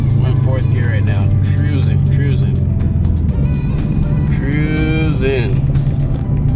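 A Chevrolet C7 Corvette Stingray with a manual gearbox cruises in fourth gear, its engine a steady low drone beneath someone talking throughout.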